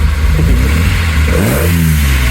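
A Porsche 911 engine revs up sharply and then drops back, a loud, close mechanical roar that lasts a couple of seconds, at an outdoor cars and coffee meet.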